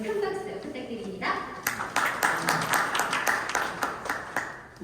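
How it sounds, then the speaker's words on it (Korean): A voice talks at first, then the audience at a signing ceremony bursts into clapping: dense, crisp hand claps that swell and carry on to the end. "여러분 큰 박수 부탁드립니다"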